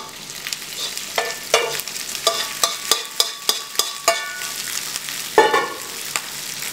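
Garlic, ginger and rice stir-frying in a pan, with a steady sizzle and a quick run of sharp metallic scrapes and clacks as a utensil tosses the rice, close and loud, without talk.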